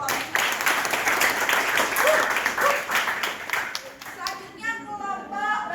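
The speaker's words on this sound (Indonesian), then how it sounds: "Beri aplaus dulu untuk kelompok 1." A classroom group claps in applause for the first presenting team during a micro-teaching session, dense and sustained clapping from many hands that tapers off near the end.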